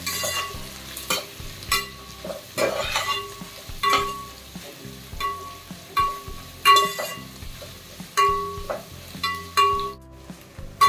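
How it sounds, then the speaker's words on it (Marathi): Sliced onion being stirred and sautéed in a pan for mutton biryani, with a steady sizzle under rhythmic scraping strokes of a spoon against the pan and occasional light clinks, close and fairly loud. "आता कांदा आपल्याला ह्याच्यामध्ये ना चांगला परतून घ्यायचा आहे चांगला ब्राऊन तोपर्यंत परतत राहायचं आहे"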